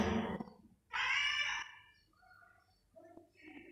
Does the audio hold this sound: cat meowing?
yes